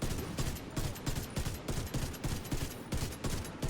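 Rapid sustained automatic gunfire in the shooter game The Division 2, a dense rattling burst of shots repeating steadily and loudly throughout with no speech.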